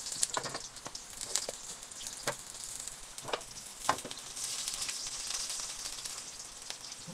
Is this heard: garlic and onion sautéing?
yes